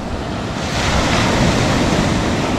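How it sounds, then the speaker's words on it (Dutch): Ocean surf breaking steadily on a beach, a dense, continuous roar of crashing water mixed with wind buffeting the microphone, loud and close throughout with no voices. "Wat een golven."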